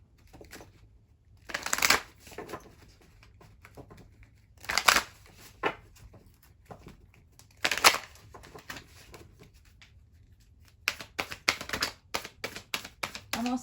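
Moonology Oracle cards shuffled in the hands, with several bursts of riffling and flicking, then a quicker run of crisp taps toward the end. The sound is close and clear, and no one speaks.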